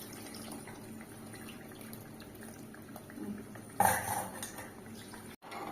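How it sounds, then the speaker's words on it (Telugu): Tamarind juice is poured into a simmering pot for Andhra-style fish curry, giving a sudden splashing rush partway through over quiet bubbling and faint clinks of utensils. "చింతపండు పులుసు వేస్తున్నాను."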